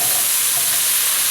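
Carrots hit a pot of leeks that are cooking down for a beef stew, giving a steady, bright sizzle with faint stirring, close and continuous with no talking.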